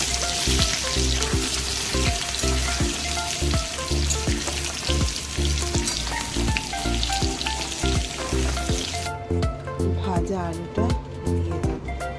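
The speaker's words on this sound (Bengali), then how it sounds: "আলুটাকে ভালো করে আগে তেলে ভেজে নিচ্ছি" Potatoes frying in hot oil, a loud, dense sizzle running close and continuous with rhythmic stirring scrapes, easing slightly near the end while a person talks over it.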